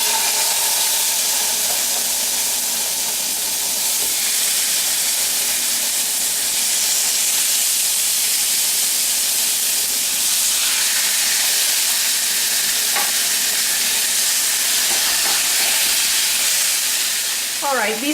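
Onions sautéing in melted butter in a hot pan for pork chops and risotto: a loud, steady, close hiss and crackle of frying that runs without a break, with a few brief spatula scrapes near the end.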